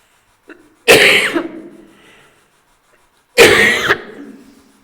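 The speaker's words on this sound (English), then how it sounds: "Excuse my coughing." Two sharp, harsh coughs a few seconds apart inside Stirling Old Jail in Scotland, close and loud, each trailing off into a brief rasp.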